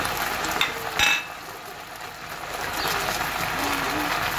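Garlic hits a pan alongside pork loin with a steady soft sizzle and crackle, a brief clatter early on, then the frying settles to an even hiss.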